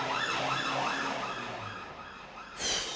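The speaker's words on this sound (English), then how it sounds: "The ambulance are flying past." Ambulance siren passing by, a loud wailing tone rising and falling in a repeating sweep that fades as the vehicle moves off, followed by a brief burst of higher noise at the end.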